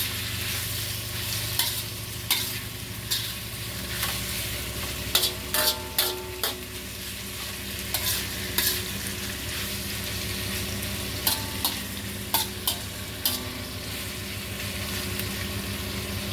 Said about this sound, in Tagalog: sagisa lang natin siya ng konti hanggang mag-golden brown